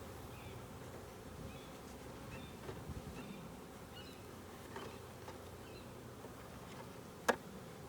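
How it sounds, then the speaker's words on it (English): Soft buzzing of a few honeybees drifting around a hive against a quiet background, with one sharp click near the end. "Few bees in the air, but not too many."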